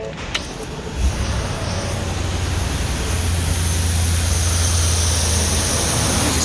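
Ford 7.3 Godzilla V8 engine cranking and firing up after front crank seal work, settling into a steady loud low idle that runs continuously.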